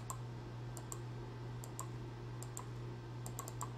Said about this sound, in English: I'm clicking a lot and it's not doing anything.